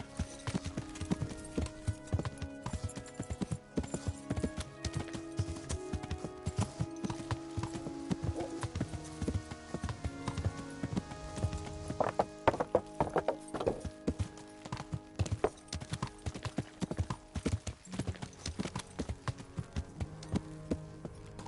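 Horse hooves clip-clop in a steady walking rhythm, with occasional snorts and a faint whinny, from the video game Kingdom Come: Deliverance; no talking.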